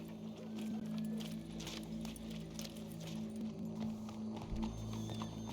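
Steady clip-clop of horse hooves walking at an even pace in Red Dead Redemption 2, with jingling tack and background ambience, no talking.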